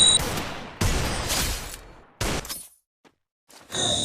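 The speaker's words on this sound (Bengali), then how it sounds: "এই রাউন্ডটাও আমি এনিমিটাকে হেডশট দিয়ে দ্বিতীয় রাউন্ড শেষ করে দিই" Gunfire in a shooting video game landing a headshot on an enemy: several loud, sharp bursts of shots in quick clusters, separated by short silences, with no talk over them.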